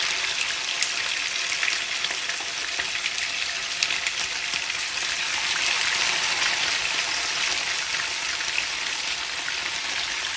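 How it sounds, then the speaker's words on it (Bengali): Chicken sizzles steadily in a pan over high heat, a dense crackling hiss that stays loud and even throughout, with no voices. "আমি মাংসটা এখন ভেজে নিব"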